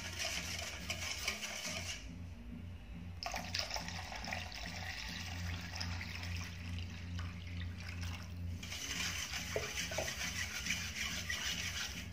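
One liter of water poured in a steady rushing stream into an avocado ice candy mixture with milk, a continuous splashing pour with a short break midway, close and fairly loud.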